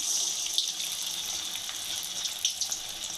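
Bread bonda frying in hot oil, heard as a steady close bubbling sizzle with faint pops throughout, no talking.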